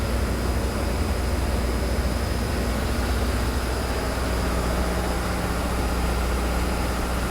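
A yacht engine room with a pair of MTU 12V 4000 engines, rated 1,800 horsepower each, running aboard an American-built superyacht: a loud, steady, unbroken drone with a deep rumble and constant hiss, no voices.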